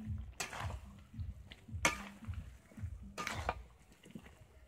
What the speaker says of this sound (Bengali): এবারে আবার কষবো